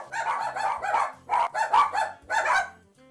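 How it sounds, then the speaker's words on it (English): A dog barks repeatedly in short bursts, close and loud, over a low background hum. "Oh man, my dog's barking."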